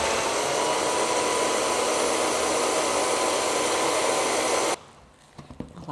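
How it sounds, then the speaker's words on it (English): A Beast blender whirs at high speed blending greens for a green smoothie, a loud steady motor roar held for nearly five seconds before cutting off abruptly into quiet handling sounds. "I'm just going to give this baby a quick blend"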